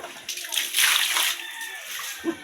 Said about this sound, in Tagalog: Magbaylo na kog tubig diri guys.